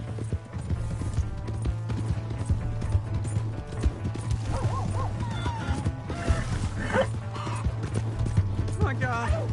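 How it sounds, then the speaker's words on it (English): Hooves clip-clop at a gallop in Red Dead Redemption on PS4, a horse whinnying amid game sounds and music while voices shout over the steady hoofbeats. "Hey, that's my horse!"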